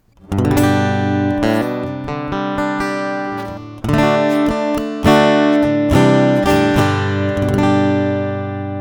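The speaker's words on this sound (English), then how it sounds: "Basically, it's using just the resonance of the guitar and the piezo pickup." Strummed Fender Acoustasonic Jazzmaster chords through its piezo pickup alone, a thin, boxy, slightly harsh amplified tone, several ringing strums with some decaying between them.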